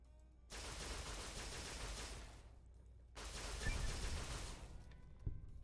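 Two sustained bursts of rapid gunfire from a gun in the video game Fallout New Vegas, each lasting about two seconds with a short pause between, loud and close with no talking.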